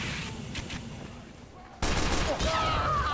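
Team Fortress 2 gunfire crackles faintly at a distance, then a sudden loud burst of close shots and impacts breaks in, with a sniper headshot among the busy combat noise.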